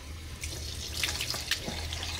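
Cold water runs steadily from a tap into a sink, a continuous close hiss with a few brief splashy bursts and no voices.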